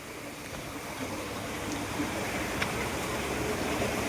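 Water rushes down steadily from above at Mahor's waterfall, a continuous broadband roar close by with no breaks, filling the whole stretch.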